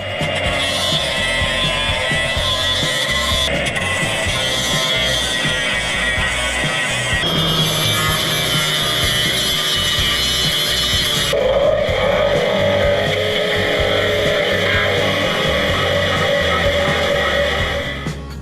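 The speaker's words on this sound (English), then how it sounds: "Time to clean this up with the grinder" An angle grinder working the metal of the right-hand rear wheel tub on a Ford Landau coupe hardtop under restoration, a loud continuous whine that shifts pitch several times as the disc bites and eases off the steel.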